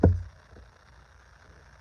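A single snare drum hit lands with a sharp, close thump and quickly dies away into a quiet room.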